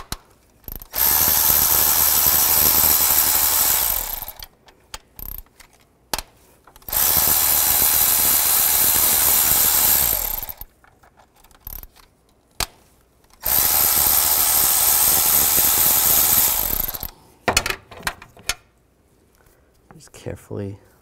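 Power ratchet or drill-driven 10 mm socket removing the solenoid cover bolts on the passenger side of a 2005-2015 Nissan engine, heard as three long loud whirring bursts separated by short pauses, with a few brief clanks at the end.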